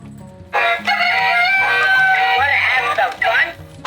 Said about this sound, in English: and I have a new chicken.